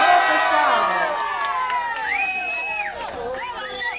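A crowd cheers and shouts in celebration of Dona Jo at a street tribute in Itaim Paulista, with whoops and excited voices over a fading musical tone, little clear clapping.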